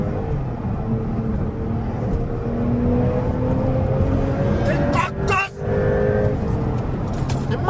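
A 2021 Porsche 911 Turbo S at full throttle, a loud steady engine roar with rising tone, heard from inside the car with a brief dip near the end, and a voice talking over it.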